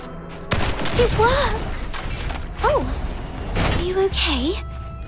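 Yellow crystal spikes burst under gunfire in the video game Duet Night Abyss, with a few sharp blasts and shots under spoken dialogue and whooshing effects.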